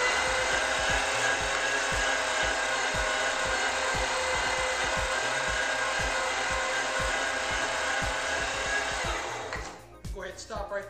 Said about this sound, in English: now you just want to grind the catfish through the grinder